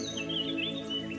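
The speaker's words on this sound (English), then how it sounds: "Birds chirping," Birds chirp in a calm natural setting, their short high tweets rising and falling above a steady low background hum.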